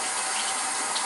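Running tap water splashes steadily as an onion is rinsed under the faucet in a kitchen sink; a close, continuous hiss of flowing water with no talk.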